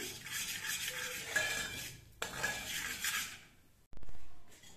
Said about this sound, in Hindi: थोड़ा सा हम सूजी को भून लेंगे।